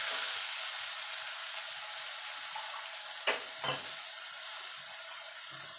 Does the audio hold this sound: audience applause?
no